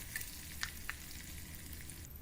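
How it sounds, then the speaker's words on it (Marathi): Finely chopped green chili and curry leaves fry in a hot oil tempering for koshimbir, a soft steady sizzle punctuated by a few light stirring clicks, with no voices. "बारीक कापलेली एक हिरवी मिरची परतून घेऊया"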